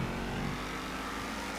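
A race car engine in the Trackmania racing video game drones at a steady high pitch as it accelerates, a continuous buzzing whine heard alone at moderate volume.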